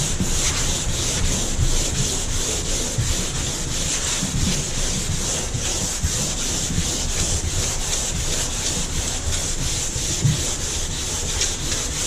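Block sanding primer on a 1960 Corvette body, a continuous close rasping rub with a steady back-and-forth texture and no voices.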